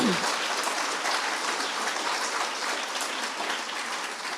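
A room full of people applauds at an Earth Day talk, steady clapping heard as a dense, even patter that holds throughout without a break.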